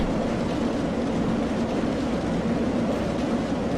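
B&M roller coaster train running along its steel track, a steady loud rumbling roar with no break, close and continuous throughout.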